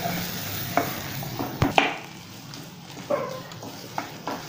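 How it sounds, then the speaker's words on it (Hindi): Almond paste is stirred and roasted in ghee in a kadhai for an Indian almond halwa, giving a soft, steady sizzle broken by occasional scraping knocks of the spoon against the pan. "इसे इसी तरह से भूनते रहना है और अभी 5 मिनट भूनेंगे।"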